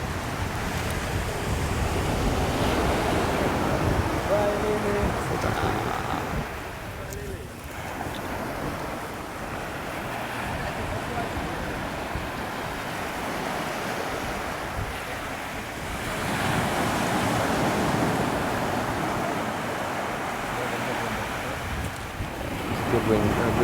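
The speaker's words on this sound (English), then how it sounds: "Good wind, good wave coming now." Ocean waves wash onto a beach under strong gusting wind, a continuous loud roar that swells and eases, with voices faintly mixed in.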